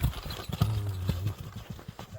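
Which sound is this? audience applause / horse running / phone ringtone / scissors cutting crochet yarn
horse running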